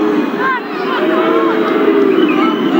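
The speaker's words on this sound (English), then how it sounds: "They're booing the Australian official" Rugby crowd booing the Australian referee at a 1991 Wales versus Papua New Guinea match, a dense, sustained roar of many voices that swells slightly and holds steady throughout.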